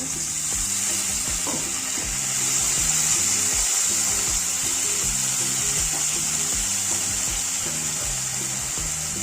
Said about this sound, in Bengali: অল্প পরিমাণে জল দেব